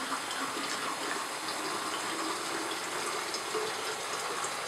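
Hot water pours steadily into a film developing tank for home color film processing, a continuous close rushing gush with no talking.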